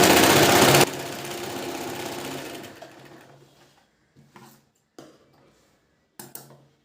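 Sewing machine stitching a blouse lining piece, a loud fast mechanical whir that runs for a few seconds, slows and stops, followed by short bursts of stitching.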